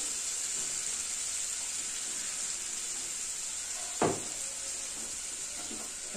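Spice paste fries in a pan with salt and turmeric, giving a steady close sizzle and hiss with one sharp clack of a utensil partway through.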